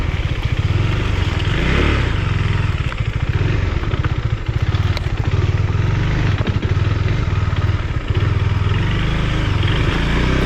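A Husqvarna Svartpilen 401 motorcycle rides an open off-road trail, its engine droning loud and steady throughout with rough clattering from the terrain, no talking.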